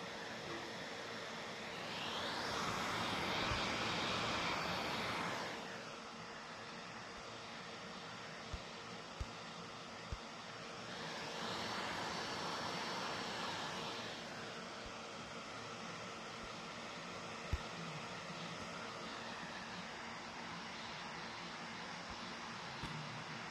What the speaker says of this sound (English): The laptop is just throttling its both fans to the maximum speed.